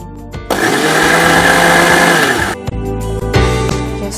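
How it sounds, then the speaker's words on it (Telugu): A kitchen mixie grinds pesarattu batter, starting with a sudden loud whirring roar that runs steadily for about two seconds, cuts out, then restarts in shorter bursts, with no talking over it. "ఓకే, ఇప్పుడు దీన్ని మనం మిక్సీ చేసేద్దాం."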